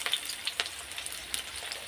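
Onions sizzle in oil with black cumin, a close, steady hiss broken by small crackles and spatters, fairly quiet and without any voices.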